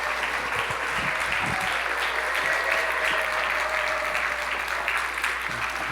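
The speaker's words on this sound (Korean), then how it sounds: "큰 박수로 목사님 환영하겠습니다." Church congregation applauding to welcome a pastor at a Bible academy lecture, steady, full clapping from many hands across the whole stretch, with a faint low hum underneath.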